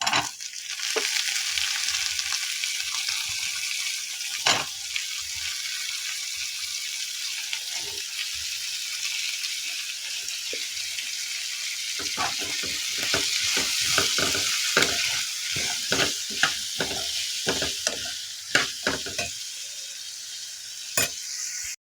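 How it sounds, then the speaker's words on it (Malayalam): Brinjal sautéing in a pan, with a continuous soft sizzle and repeated scraping stirs that become denser toward the end, close up and with no voices. "കുറച്ച് നമുക്ക് വഴുതനങ്ങയും കൂടി ഇട്ടൊന്ന് വാട്ടിയെടുക്കാം."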